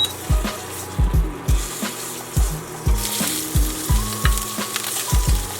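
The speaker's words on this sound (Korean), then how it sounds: "여러분 이번에는 전복을 버터에 부어주도록 하겠습니다" Abalone cooks in butter in a pan, a steady sizzle under a regular series of low knocks and scrapes, roughly two per second, close and clear with no speech.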